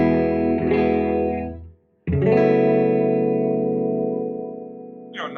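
A Zwitch Strat/Les Paul mashup electric guitar plays on its second pickup. One sustained strummed chord rings out and fades, then a short silence, then a louder second chord rings long and bright, heard alone.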